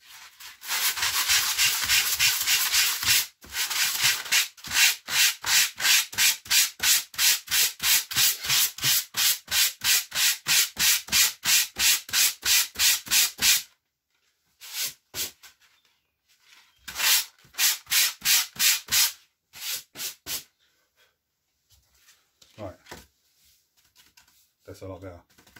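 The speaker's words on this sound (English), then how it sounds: "what that does is that sands it right down" Sandpaper rubs hard over a piece of expanding foam in fast rhythmic back-and-forth strokes, loud and close, then stops, leaving a few scattered scrapes and handling sounds.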